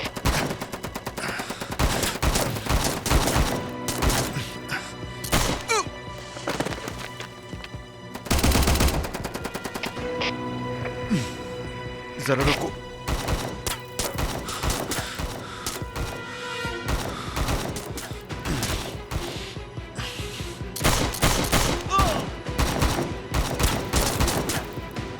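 Rapid gunfire rattles continuously through an attack, with dense machine-gun bursts, heavy sharp cracks and a few louder impacts. A voice speaks briefly amid the shooting.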